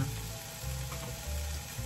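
Sausage and eggs fry in a pan with a soft, continuous sizzle and crackle heard alone at low volume.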